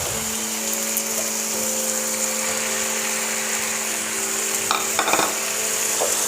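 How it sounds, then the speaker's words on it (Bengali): Mushrooms frying in masala in a pan, a steady close sizzle with occasional scrapes of stirring and a faint constant hum underneath. "দিয়ে আস্তে আস্তে মশলার সাথে মাশরুমটা আমি ফ্রাই করব"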